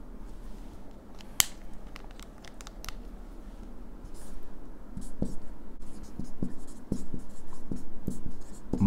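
A pen scratches across paper in a quiet room, a soft continuous scribble broken by small taps and strokes that grow busier toward the end, close and fairly faint.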